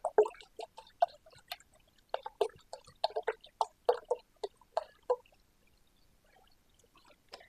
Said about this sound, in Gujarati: થોડું બીજું પણ પાણી એડ કરી દઈએ.